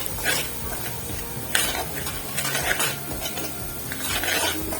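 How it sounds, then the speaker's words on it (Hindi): Semolina roasting in desi ghee, stirred with a medium spoon: repeated scraping and clattering of metal against the pan over a soft background sizzle, close and fairly busy throughout. "चम्मच को बराबर हिलाते रहना है ताकि ये नीचे ना लगे"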